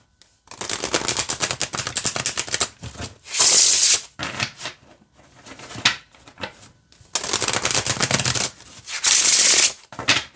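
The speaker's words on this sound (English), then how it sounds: "So this shuffles pretty well." Glow-in-the-dark tarot cards riffle-shuffled repeatedly at close range, brisk fluttering bursts with short pauses between, loud and without any talking.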